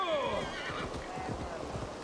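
A horse whinnies in Assassin's Creed Valhalla, a bright, descending neigh up front, followed by rhythmic hoof clip-clops as it moves through a forest in Gloucestershire, with ambient game sounds underneath.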